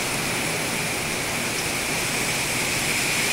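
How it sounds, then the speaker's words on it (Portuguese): Torrential nighttime rain in Blumenau, a loud, dense, unbroken roar of downpour filling the whole stretch, with no voices. "Chuva torrencial em Blumenau na noite de segunda-feira, 16 de outubro, às 19 horas."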